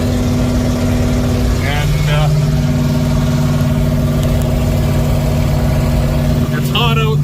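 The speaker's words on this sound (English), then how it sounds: "So now I'm just making my way home with the water truck and the sprayer." An old water truck hauling a sprayer putters slowly home along a soft rural road on a hot day, its engine a steady loud low drone with a brief rise partway through, running continuously and close.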